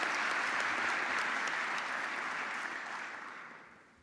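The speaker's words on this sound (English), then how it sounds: "So let's applaud the winner of" A conference audience at the IJCAI 2017 opening ceremony breaks into dense, sustained applause for a best paper winner, the clapping swelling from the start and then fading away over the last second or so.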